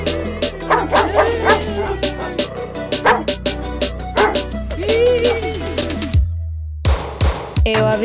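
A small dog barks and yips in quick, loud repeated bursts with whimpering notes, set against a music track and ending in a few sharper yelps.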